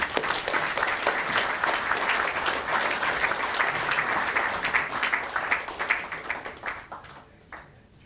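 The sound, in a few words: gala dinner audience applause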